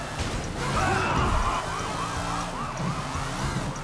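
A wailing police siren in a Sleeping Dogs video game chase sweeps up and down repeatedly over engine noise and a thud, at moderate volume with no talking.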